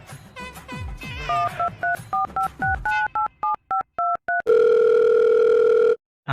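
A telephone call being dialed: a rapid run of evenly spaced touch-tone beeps, loud and close, then a steady ringback tone that holds for over a second before cutting off.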